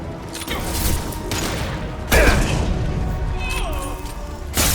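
Gunfire and heavy blasts from a firefight in Mass Effect 2 aboard a breached ship, loud sustained bursts with sharp booms near the middle and end, under game sound and voices.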